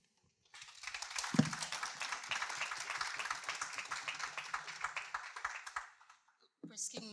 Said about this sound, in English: give another round of applause to our speakers tonight.